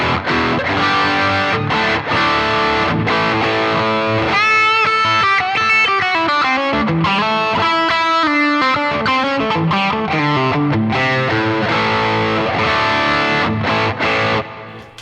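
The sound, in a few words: electric guitar through Earthquaker Devices Plumes, tube screamer setting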